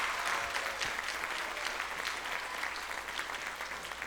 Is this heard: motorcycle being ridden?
no